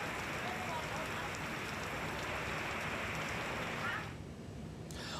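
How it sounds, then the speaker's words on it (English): Torrential rain in the Balearic Islands, a dense, steady hiss of heavy downpour drumming on surfaces that drops off sharply near the end. "torrential rains swept across the region on Wednesday"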